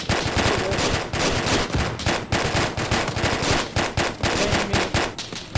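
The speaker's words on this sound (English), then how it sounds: "We're taking fire!" Rapid bursts of automatic and single-shot gunfire from an Arma 3 military shooter battle, loud and close, crackling almost without pause through the whole stretch, with no voices over it.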